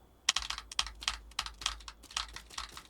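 Close computer keyboard typing, quick clicking keystrokes in a steady, slightly uneven rhythm, with no voices.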